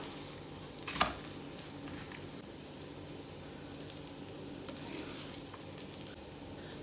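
Egg and chapati frying in a pan give a faint, steady sizzle throughout, with a single brief clatter near the start.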